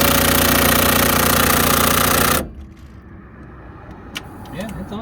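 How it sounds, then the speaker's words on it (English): Loud, continuous rattling hammer of an impact gun on a truck shock bolt, close up for about two seconds before cutting off, followed by softer clatter and talk. "You can also use a socket, but since I have a gun, I'm going to use it."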